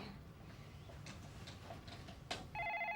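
A telephone rings at close range with a bright, repeating electronic trill that starts near the end, following faint ticks and light shuffling.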